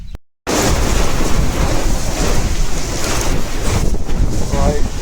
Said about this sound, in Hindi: भाई कमाल की आंधी आ रही है, खतरनाक आंधी चल रही है भाई।